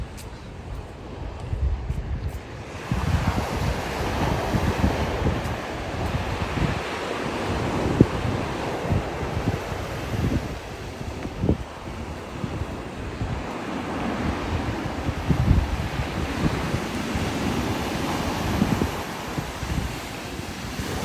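Sea waves wash onto the shore at Paphos in a continuous surging hiss, with heavy wind buffeting the microphone throughout and no speech.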